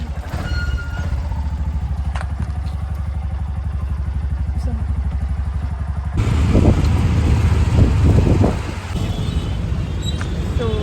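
An auto rickshaw engine chugs nearby on a road with a steady, rough idle, swelling louder for a few seconds midway as it comes in, then settling back to a low running drone.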